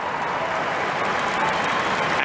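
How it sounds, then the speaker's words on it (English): A stadium crowd of Swedish fans at a Women's World Cup match applauds steadily as a player is substituted off, a dense continuous patter of clapping with no talk. "Warm applause to the Swedish fans for her endeavours."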